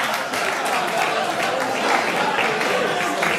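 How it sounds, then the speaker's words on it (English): Wedding guests applaud the bride and groom during a best man's speech, a steady roar of many hands clapping at once, loud and sustained throughout with a few voices and cheers mixed in. "can you give a round of applause to the bride and groom"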